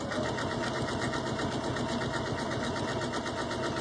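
A sewing machine stitches an oval eyelet into fabric, running continuously with a steady, rapid mechanical whir and close, even loudness throughout, no voices.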